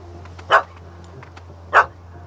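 A puppy in The Witcher 3 gives two short, sharp barks about a second apart, moderately loud against a low, steady background hum.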